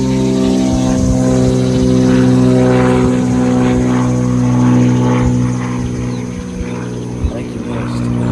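A propeller airplane flies over near an airport, its loud steady engine drone with layered harmonics filling the whole stretch and easing slightly toward the end while someone talks underneath.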